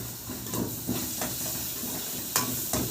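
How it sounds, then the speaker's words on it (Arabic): Spices and onions sizzle in a hot pan as they are stirred, a steady hiss broken by a few louder scraping stirs, close and alone without talk. "قلب البهارات ديت مع البصل"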